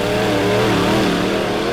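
Dirt track race cars roar across the line during a heat race at Lebanon Midway Speedway, a loud, close, continuous engine drone with shifting pitch as several cars pass together.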